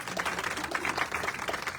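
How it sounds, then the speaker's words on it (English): An audience claps at a fashion show, faint and fairly steady with uneven individual claps throughout the short stretch. "Let's give her a round of applause."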